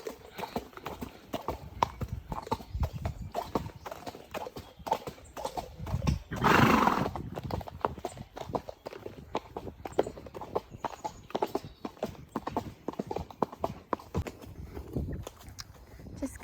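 A horse canters through the New Forest, its hooves drumming a steady, near clip-clop rhythm on the ground, with a brief snort or whinny partway through.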